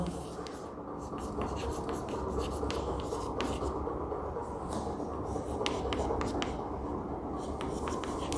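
Writing on a board with chalk or pen gives repeated short scratchy strokes, steady and close, over a constant low hum.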